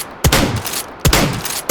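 Three sharp virtual gunshots from a weapon in the VR shooter H3VR, spaced roughly evenly apart, each a loud broadband crack with a short decaying tail.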